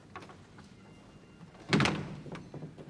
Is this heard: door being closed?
yes